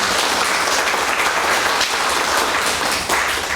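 An audience at a Buddhist scripture translation seminar gives a loud round of applause, dense continuous clapping from many people sustained throughout, with a brief dip near the end.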